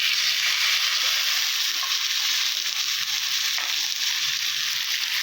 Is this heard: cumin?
yes